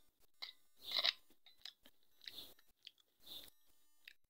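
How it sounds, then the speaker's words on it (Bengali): Fried dried shrimp dish being chewed close up, a series of crisp crunchy bites and chewing bursts separated by short quiet pauses, with no talking. "এখন আমি খেয়ে দেখব কেমন হয়েছে।"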